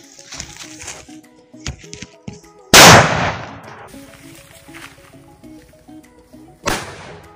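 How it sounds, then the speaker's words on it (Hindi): A firecracker bomb set off beside a coconut gives one loud, sharp bang followed by a splattering burst, then a second smaller pop, among scattered quieter knocks and clatter. "आप लोग देख सकते हैं कितना जोरदार धमाका हुआ।"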